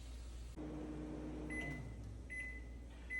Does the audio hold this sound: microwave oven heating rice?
yes